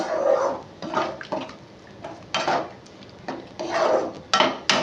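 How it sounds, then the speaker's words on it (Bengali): A spoon stirring spicy boal fish curry in a metal kadai, scraping and clinking against the pan in irregular bursts, close and fairly loud, with no speech over it. "এবার এটাকে ভালো করে মিশিয়ে নেব"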